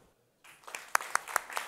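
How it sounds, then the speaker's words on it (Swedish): Audience applause for a speaker at a Swedish talk, starting after a brief silence and building into a short burst of scattered, moderately close claps. "Ge Matthew en varm applåd."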